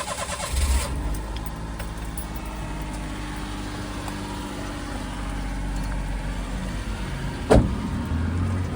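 A car engine cranks and catches, then settles into a steady low idle, with a sharp click or thump near the end.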